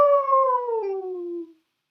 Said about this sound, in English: A coyote howled in the distance